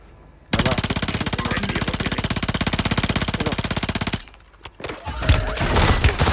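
Sustained automatic gunfire in the game Warzone, a rapid, loud, rhythmic burst of shots lasting several seconds, then a pause and scattered further noise and action sounds.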